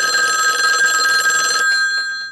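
A telephone rings in a horror-parody movie scene, a bright, steady electronic bell that rings loudly and then cuts off sharply, leaving a short quiet tail.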